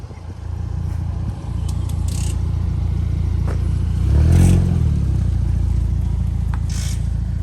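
A race car engine runs steadily close by, rising into a brief louder rev in the middle before settling back to a continuous drone, with faint clatter over it.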